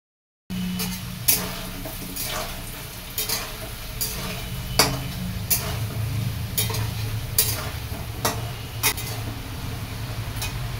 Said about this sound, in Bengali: আর এদিকে মাংস আলু ভাজা হচ্ছে